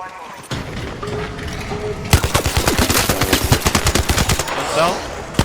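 Rapid bursts of automatic gunfire in the Arc Raiders video game, dense rattling volleys with sharp single shots that run nearly continuously after a quieter start, loud and close, with occasional speech mixed in.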